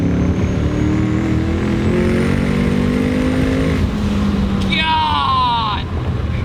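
A twin-turbo Mustang GT pulls hard in third gear from about 40 mph, engine tone rising steadily and loudly with heavy wind and road roar, then a brief high whine and chirping burst near the end.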